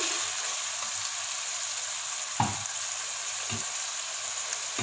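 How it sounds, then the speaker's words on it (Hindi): Minced mutton gives off a soft, steady sizzle as it is browned in a pan for aloo keema, with one sharper scrape of a spoon around the middle and a couple of fainter knocks. "कीमे को खूब अच्छे से हमने भून लिया है।"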